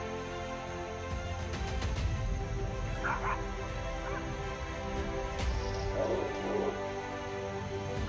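A dog yelps, whimpers and gives short barks while tussling with a chained monkey, the cries coming in scattered bursts over a steady background hum.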